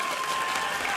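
A dense, steady wash of crowd applause and cheering fills a League of Legends esports arena, loud and continuous with no clear gaps.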